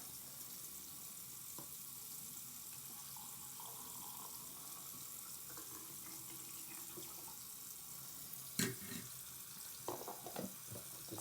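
Tap water running steadily into a sink while a film developing tank is rinsed at home, a continuous hiss with a few sharp clunks and knocks near the end.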